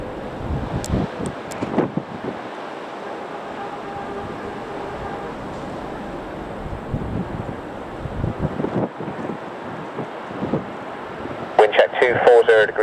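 Strong gusting wind buffets a microphone at Manchester Airport, a steady rushing roar with louder swells near the end, while radio voices talk over it.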